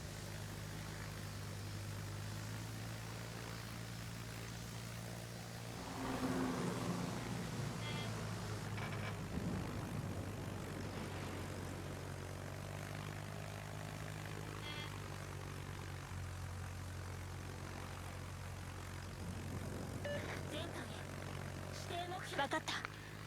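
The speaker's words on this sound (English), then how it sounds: "Going after the Venezia with these rocket planes." Rocket-armed attack planes roar past in a World of Warships naval battle, a steady low engine drone with swelling passes, heard under continuous commentary.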